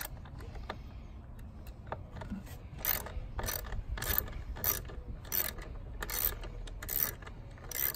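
A ratchet with an 8mm socket loosening the factory bolt on a 2012-18 Jeep Wrangler JK 3.6L, starting with faint scattered clicks and then giving about ten rhythmic, close ratcheting bursts.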